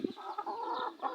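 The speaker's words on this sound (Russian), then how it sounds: "Петух с 3 курочками. Все ждут покушать." Clucking from a large rooster together with three hens waiting to be fed, a short burst of close, overlapping calls from the poultry.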